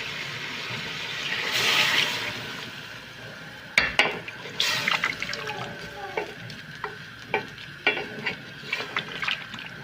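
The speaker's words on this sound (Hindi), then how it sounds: "अब हम इसमें पानी ऐड करेंगे। 2 गिलास हमने पानी डालने हैं" Water is poured from a glass into a pot of potatoes with salt and chili, a brief splashing pour followed by clinks, knocks and stirring clatter of the pot.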